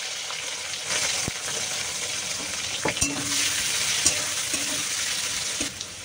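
Tomato, onion and ginger hit hot oil in a wok and sizzle steadily up close, while scattered clinks and scrapes of stirring sound over the continuous frying hiss.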